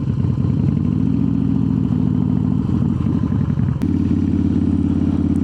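A 2003 Harley-Davidson Softail Standard cruiser rumbles through a slow U-turn on a campus road, its V-twin engine loping at low speed with a deep steady throb and a brief throttle change midway, close and continuous.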